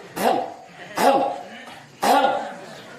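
Three short, throaty clearing sounds, evenly spaced about a second apart, close to the microphone.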